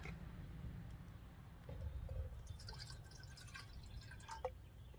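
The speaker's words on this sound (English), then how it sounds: "So I'm going to get 1 cup of water in my teapot." Water poured into a teapot beside a lit solid-fuel camp stove outdoors, a soft trickling and dripping pour over low steady flame and wind rumble, with a few faint clinks near the end.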